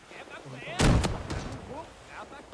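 A heavy gunshot booms in the video game Rising Storm 2 with a sawn-off shotgun, followed by a second crack and fainter distant shots while a voice talks quietly in the background.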